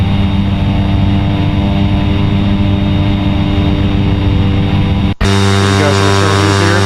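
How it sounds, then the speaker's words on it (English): Carenado Cessna C208 turboprop climbing in the X-Plane 11 flight simulator, a loud steady engine drone with a sustained hum that cuts off briefly and then resumes. "So far the plane seems to be climbing nicely."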